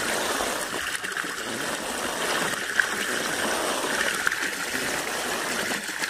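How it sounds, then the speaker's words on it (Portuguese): Water from an aquarium pump outflow splashes and trickles steadily into the tank, aerating it with a close, continuous bubbling gush and a few small sharp drips. "Faz o efeito descarga e aumenta a oxigenação da água"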